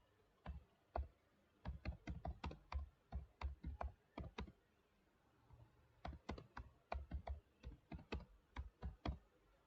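Typing on a computer keyboard, two quick bursts of crisp, close key clicks in an uneven rhythm with a short pause between them, alone and without talk.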